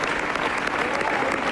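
An audience at an Italian speech breaks into applause, a dense continuous wash of clapping that stays even and moderately loud for the whole stretch, with no voices on top.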